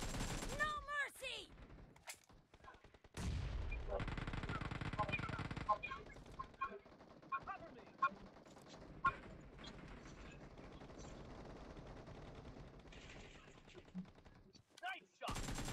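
Rapid bursts of automatic gunfire and single shots in a PUBG Mobile eight-versus-eight match, crackling in clusters and then thinning to scattered reports, with game announcer calls and players talking between the volleys.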